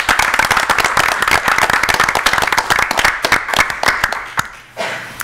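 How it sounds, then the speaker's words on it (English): Audience applause fills a school Board of Education meeting after graduating honor students are recognized, a dense burst of many hands clapping at close range that thins out near the end. "We'll give them a round of applause."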